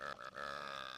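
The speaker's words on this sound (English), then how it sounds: "Is the burping over?" Cartoonish video game burp from a character expelling gas, one long continuous belch held for about a second, loud and close with a brief stutter near the start.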